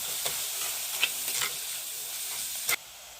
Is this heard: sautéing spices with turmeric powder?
yes